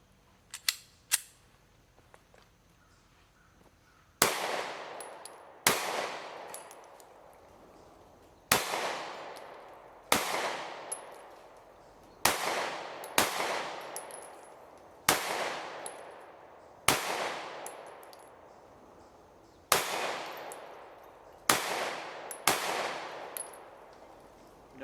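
A Taurus GX4 XL pistol fires through an 11-round magazine: loud, sharp gunshots close up, each with a ringing decay, spaced unevenly over about twenty seconds after a few faint handling clicks.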